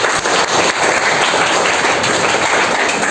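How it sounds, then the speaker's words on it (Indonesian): An audience of students claps for a classmate after her story, producing a continuous, even wash of applause at fairly close range with no voices over it. "Oke, tepuk tangan untuk."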